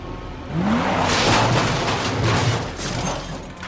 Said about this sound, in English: Gently bump your car into some trash cans